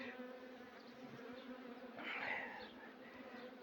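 A soft, steady drone of many honeybees buzzing together in a hive in winter, swelling slightly in the middle, with no talking.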